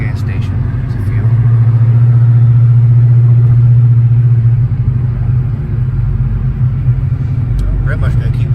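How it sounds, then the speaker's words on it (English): Cars idle and drive past at a gas station, a steady low engine rumble with one vehicle's hum swelling close for a few seconds before easing back into the traffic noise. "It's always cars at this gas station."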